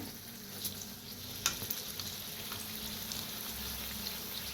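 Kachori sizzles and crackles steadily in hot oil, a continuous bubbling hiss with occasional sharper pops, close and fairly loud with no talking.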